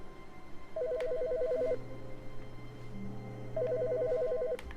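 An office telephone trills in The Stanley Parable, two bursts of rapid warbling rings about two seconds apart, steady and fairly close over a low room hum with no one talking.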